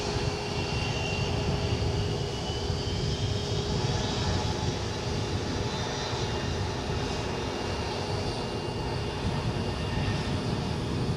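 An airliner's engines roar steadily at Edinburgh airport, a broad, constant rumble with a sustained whine on top, loud and unbroken for the whole stretch, with no voices.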